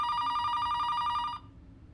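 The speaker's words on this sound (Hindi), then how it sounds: "लगता है अमेरिका से दीपक का फोन है।" A telephone rings at home with a steady electronic trill that stops sharply partway through, leaving quiet room tone with no talk.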